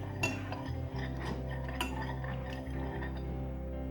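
Iced coffee being stirred in a glass, with a spoon clinking against the glass and the ice in quick, irregular taps, close and fairly quiet.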